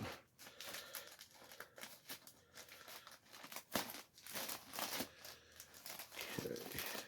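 A plastic bag crinkles and rustles up close while scissors snip it open in short irregular bursts.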